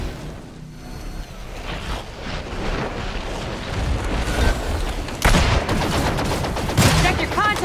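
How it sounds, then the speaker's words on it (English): A tranquilizer gun fires during an Evolve hunt of a Kraken monster, with dull thumping shots set in a busy mix of battle booms and rumble, and speech faintly under it. "Trank gun ready!"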